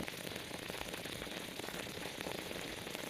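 A hot ball sizzles steadily in papaya juice or syrup as smoke rises, a continuous faint crackling hiss that holds even for the whole stretch with no talk over it.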